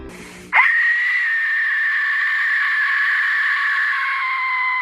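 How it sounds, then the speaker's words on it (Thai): An Aztec death whistle blown once, a sudden piercing scream-like shriek that starts sharply and holds loud and steady for about four seconds before trailing off, heard alone after a brief noisy lead-in. "เป่านกหวีดเดดวิซเซล"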